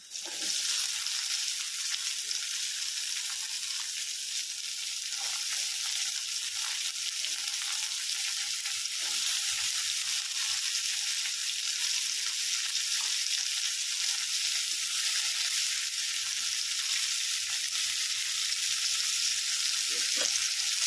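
Chopped onion fries with browned garlic in a pan, giving a continuous bright sizzle and crackle at steady loudness throughout, with faint stirring and no talk.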